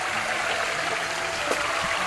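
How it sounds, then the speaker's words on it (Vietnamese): A mountain stream on Ba Den mountain rushes and gurgles in a steady, full wash of flowing water, heard up close with no voices over it. "Đi đây gặp thêm cái suối nữa nè."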